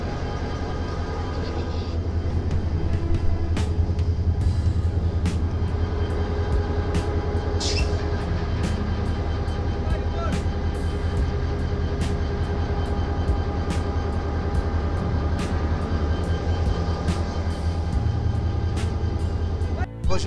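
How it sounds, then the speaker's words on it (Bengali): A passenger train pulls out of a station platform in Bangladesh, a steady heavy rumble of wheels and carriages with rhythmic clicks of rail joints running throughout, close and loud for the whole stretch. "তো দেখতে পাচ্ছেন অবশেষে ট্রেন ছেড়ে দিল।"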